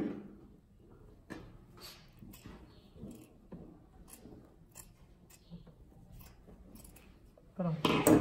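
Quiet snips of scissors cutting fabric for a child's dress repeat at an irregular pace, near and soft, with a louder rustle at the end.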